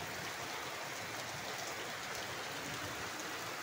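Steady rain hisses continuously over a flooded village, a dense even patter without pauses or voices.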